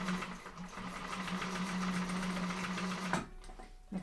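A Titan sewing machine hums through steady top stitching, a continuous moderately quiet motor whir with a regular needle rhythm that cuts off abruptly near the end.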